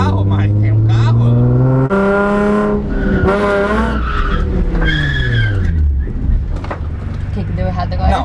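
A Nissan 350Z drifts with its tires squealing and skidding, a loud, close, sustained screech over the engine that wavers in pitch for several seconds.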